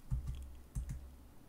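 Keys on a computer keyboard tapped in two short pairs of clicks, close and fairly quiet, with a soft low hum underneath and no talking.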